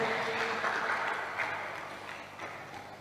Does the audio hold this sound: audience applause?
yes